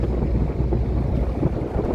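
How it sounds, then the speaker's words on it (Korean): A ferry crosses the Aegean Sea in strong wind with light rain, a continuous rumble of engine and water under heavy wind buffeting on the microphone. "이 배를 타고 이 에게를 건너가는데 바람도 세고"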